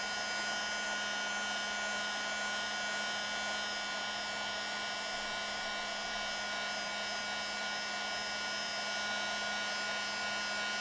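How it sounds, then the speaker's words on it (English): An embossing heat tool blows steadily over Liquid Applique on a snowy craft project. It makes a loud, unbroken fan whir like a hair dryer, with a constant hum throughout and no pauses. "And you just slowly move the embossing tool over the Liquid Applique."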